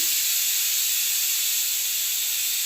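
Marinated chicken tipped into hot fried masala in a pan gives a loud, steady, close-up sizzle, a continuous bright hiss that holds evenly from start to finish with no voices.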